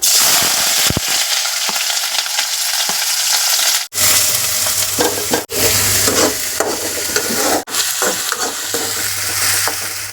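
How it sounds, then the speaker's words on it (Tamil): Loud, continuous sizzling of onions and curry leaves frying in hot oil, with occasional stirring scrapes and no talking. "வெங்காயம் நல்லா வதங்கட்டும்"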